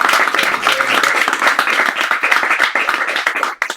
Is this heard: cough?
no